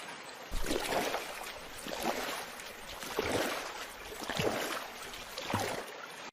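In a cartoon, a boatman rows a boat across water, with rhythmic oar splashes and swishes about once a second, close and moderately loud.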